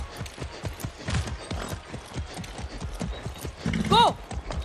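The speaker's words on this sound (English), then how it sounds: "That's a good horse." A horse's hooves clip-clop steadily at a brisk, even rhythm in Far Cry 6, close and clear, with a short whinny near the end.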